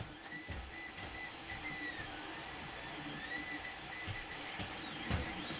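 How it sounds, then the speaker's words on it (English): A 3D printer runs at a workbench, giving a steady mechanical whir with faint stepper-motor whines that rise and fall. It holds at a moderate, even level throughout with no talk. "Sorry for the background noise, it's my 3D printer."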